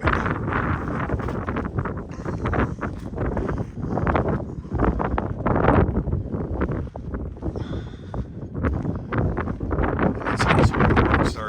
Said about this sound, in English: but it's going to be pretty windy.